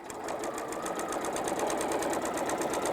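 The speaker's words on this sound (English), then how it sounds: "So we stitched all the way around." Sewing machine stitching steadily around the edge of pillow fabric, a fast, even rhythmic whir heard up close and continuous throughout.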